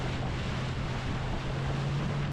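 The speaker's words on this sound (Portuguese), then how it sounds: "Agora o vento começou a soprar mais forte." Strong wind roars in Chilean Patagonia beside a huge lake, a loud, steady broadband rush that holds evenly for a couple of seconds before cutting off abruptly.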